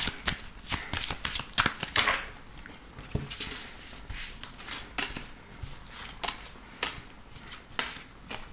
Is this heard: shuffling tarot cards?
yes